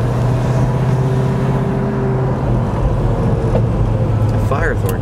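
A 1976 Pontiac Trans Am with a 455 V8 and four-speed manual driving along, a steady low engine rumble heard from the cabin beneath conversation.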